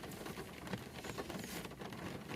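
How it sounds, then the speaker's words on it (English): Rain falling outdoors by a cottage in Navenby, a soft, steady patter of drops on surfaces, faint and continuous throughout with no voices. "hopefully this rain will stop"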